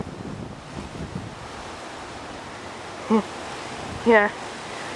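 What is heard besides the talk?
wind storm blowing palm trees in front yard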